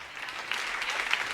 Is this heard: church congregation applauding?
yes